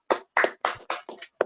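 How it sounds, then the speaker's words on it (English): One person claps their hands six times in a slightly uneven rhythm, each clap crisp and close, with no other sound around them. "I'll clap my hands"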